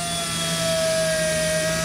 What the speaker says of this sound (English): what I'm gonna do is just drill a hole in that grommet.